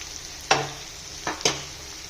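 Panikoorka leaves cooking in a pan for Kerala pachadi: a steady low sizzle broken by three sharp scraping stirs of a spoon against the pan, close and fairly loud, with no talking.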